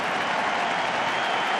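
A baseball crowd at Fenway Park applauds pitcher John Lackey during Game 2 of the 2013 World Series, Cardinals at Red Sox, a dense, steady roar of clapping and cheering with no pauses throughout.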